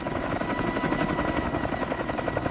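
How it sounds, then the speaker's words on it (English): A Mi-26 heavy-lift helicopter descends and settles onto a landing area, its rotors producing a loud, steady, rapid thumping that fills the whole stretch without a break. "descends gradually, and settles the helicopter onto the landing area"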